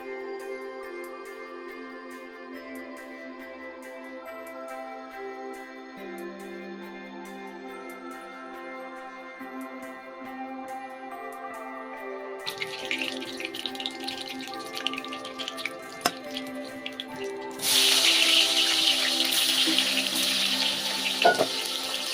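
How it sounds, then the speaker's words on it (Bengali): Hilsa fish frying lightly in oil and turned side to side; after a stretch of steady tonal background, a crackling sizzle begins midway and grows louder and fuller over the last few seconds. "ইলিশ মাছ কখনোই বেশি ভাজতে হয় না, তাই এগুলো আমি এপিট ওপিট করে হালকা হালকা করে ভেজে নিচ্ছি।"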